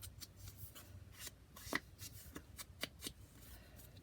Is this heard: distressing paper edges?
yes